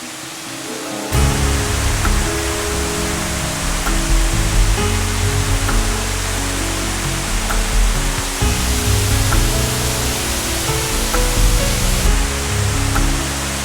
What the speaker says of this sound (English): You can hear the waterfall now, we must be almost at the end.